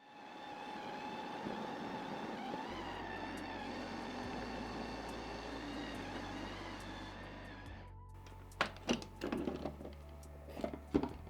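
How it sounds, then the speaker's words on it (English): A Ninja Creami ice cream machine runs its mix-ins cycle on mint ice cream with chocolate shards, giving a loud, steady motorized whir and grinding for about eight seconds, then stopping, followed by scattered clicks and clunks of handling. "we're going to stick it back in the machine now, and we're going to hit mix-ins"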